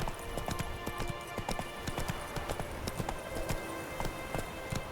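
Roach, the horse in The Witcher 3, gallops in quick rhythmic hoofbeats. The clip-clop is close and fairly quiet, with a faint game ambience underneath.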